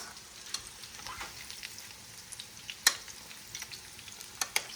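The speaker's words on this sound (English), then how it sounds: "So look, we can baste." Chicken cutlets for Milanese or Parmigiano frying in a pan while being basted with hot fat, a close, steady sizzle with scattered crackles and spoon clicks, no talking.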